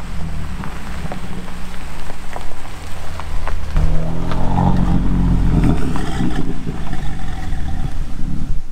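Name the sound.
supercar arriving at the Bananarally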